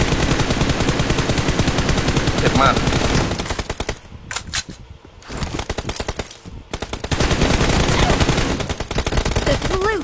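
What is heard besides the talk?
gunfire in the video game PUBG Mobile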